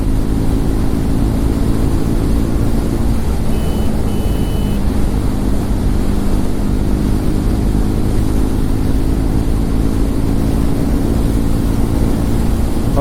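A Triumph Tracker 400 motorcycle pulls hard on a speed run, its engine roaring loud and continuous with heavy wind rush over the whole stretch and no talk.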